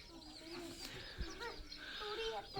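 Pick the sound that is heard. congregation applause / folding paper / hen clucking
hen clucking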